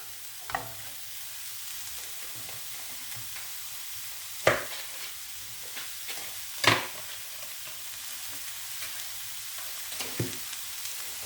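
Vegetables sizzling in a pan with a little butter, a soft steady frying hiss with a few sharper clacks of a utensil stirring and scraping, close and quiet with no talk.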